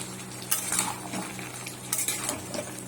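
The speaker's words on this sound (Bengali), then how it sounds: "চিংড়ি মাছ দিয়ে পুঁই শাক হচ্ছে। আলু, বেগুন, পটল, মিষ্টি কুমড়ো দিয়ে পুঁই শাকের তরকারি করা হচ্ছে" Prawns cooking with Malabar spinach, potato, eggplant, pointed gourd and pumpkin in a home curry pot, with a utensil clinking and scraping in a few sharp stirring knocks over a soft steady background.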